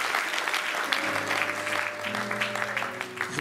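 A church congregation at an ordination service breaks into sustained applause, dense and close, with a sustained tone rising beneath the clapping.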